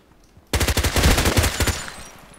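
Rapid automatic fire from an H&K MP5k submachine gun in the online shooter Contract Wars, a sharp burst of about a dozen close, loud shots in quick rhythm that cuts off after a second and a half.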